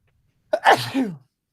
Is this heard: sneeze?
yes